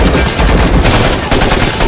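Rapid automatic gunfire from a dubbed action movie, a dense, loud, continuous volley of shots that fills the short stretch with no talk.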